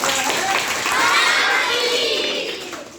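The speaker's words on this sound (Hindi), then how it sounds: "जोरदार ताली बजाइए" Loud, sustained applause from a group of children in a classroom, dense steady clapping that swells and then tapers off with some faint young voices mixed in.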